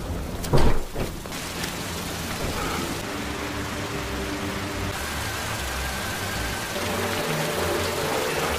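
Heavy rain pours down in a constant hiss, with a sharp thud near the start and low rumbles from traffic or thunder underneath.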